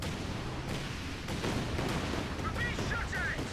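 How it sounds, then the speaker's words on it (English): Nebelwerfer rocket artillery barrage in a World War II strategy video game, a dense continuous roar of blasts and rumbling impacts filling the scene, with commentary audible over it. "There's another Werfer barrage."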